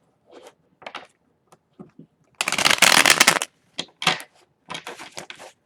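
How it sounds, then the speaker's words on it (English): Tarot cards being shuffled by hand, with a long riffling burst in the middle flanked by several short, crisp card flicks and taps, close and clear with no talking. "Okay, I'm going to do 2 more shuffles, and we will start your reading"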